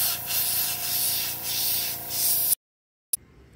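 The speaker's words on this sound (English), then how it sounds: "Back up a little bit so you don't get that spray all over the place." Spray paint can hissing in pulsing bursts while coating a clothespin fishing lure, close and steady for about two and a half seconds before cutting off into silence.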